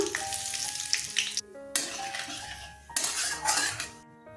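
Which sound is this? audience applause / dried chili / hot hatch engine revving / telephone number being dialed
dried chili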